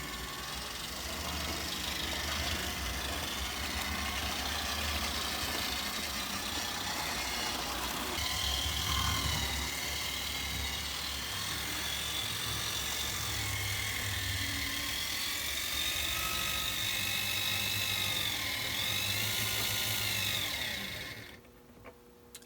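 A model ALCO FA locomotive strains against an added B unit, giving a continuous loud motor whine and hum with rising and falling electronic tones that cuts off abruptly near the end.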